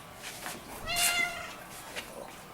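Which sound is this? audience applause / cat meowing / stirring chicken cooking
cat meowing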